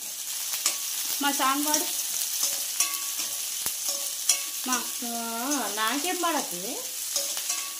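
Curry leaves sizzling in hot oil in a pot while stirred for leafy-greens dal, a steady close crackling fry with occasional spoon taps, under someone talking and singing.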